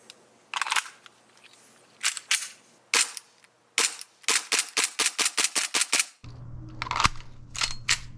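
The slide of a gas blowback airsoft pistol cycles in crisp, sharp clacks, first singly with pauses, then in a quick run of a dozen, close and loud, followed by a faint hum and a few more clicks.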